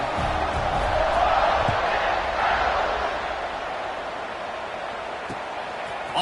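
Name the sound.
stadium crowd cheering in video game College Football 26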